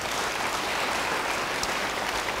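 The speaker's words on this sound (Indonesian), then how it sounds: "Beri tepuk tangan bagi dia." Church congregation applauding during a sermon, a dense, steady roar of many hands clapping together, loud and sustained throughout with no voices on top.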